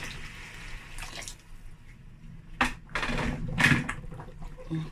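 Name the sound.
pouring water from a kettle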